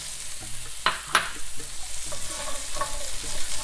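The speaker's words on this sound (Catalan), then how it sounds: "Deixem sofregir tot res, un minut, que no se'ns cremin els pinyons." Pine nuts sautéing in a pan of oil for Lenten salt cod, a steady close sizzle with stirring scrapes and a couple of sharp pops and clatters near the start.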